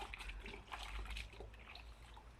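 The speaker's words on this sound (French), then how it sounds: "on rince à l'eau claire avec une éponge bien essorée" A well-wrung sponge and clean water rinse cleaning product off a surface, giving soft wet wiping and light trickling. The sound is close but faint and uneven.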